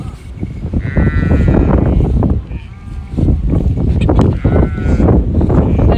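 Goats bleating close by in a rural farm setting, a run of loud wavering calls overlapping one another, with some talk mixed in.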